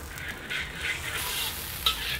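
Chicken stock, soy sauce and sugar simmering over medium-low heat in a pan, a soft continuous bubbling sizzle, quiet and close, with one faint clink.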